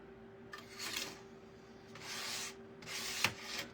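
Hand sanding a wooden patriotic cutout with sandpaper: three soft, close rasping strokes that swell and fade in an uneven rhythm over a low steady hum, with no talking.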